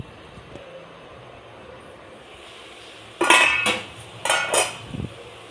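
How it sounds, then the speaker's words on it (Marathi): A lid lifted off a pan of cooking cabbage (patta kobi bhaji), then the vegetable stirred, giving a few loud metallic clinks and scraping bursts after a quiet start. "आता आपण झाकण काढून बघूयात आणि चांगलं मिक्स करून घेऊया"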